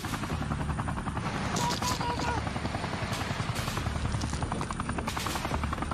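Black Hawk helicopters arrive over Mogadishu, their rotors thudding in a steady, dense beating roar that fills the scene, with sharp crackling bursts layered on top.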